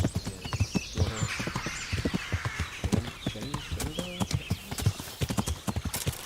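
Horse hooves in the Kingdom Come video game clop along in a quick, steady rhythm, crisp and close, with only faint background sound.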